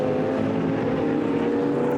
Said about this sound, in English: here comes the 75 car of Salaquada to the line, and the checker flag comes out